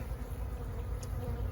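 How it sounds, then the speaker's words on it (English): Honey bees buzz steadily inside a hive box from a colony close to swarming, heard up close as a continuous droning hum with no talk. "some bees in this box"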